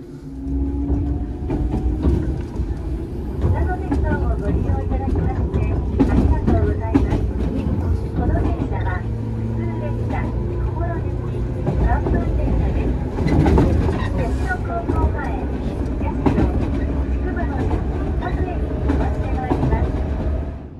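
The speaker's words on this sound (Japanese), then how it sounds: "列車は千曲川を渡ります。" A Shinano Railway 115 series train runs across the Chikuma River with a steady rumble and rolling wheel noise throughout, rhythmic clatter from the rails rising at intervals, and a faint announcement voice now and then.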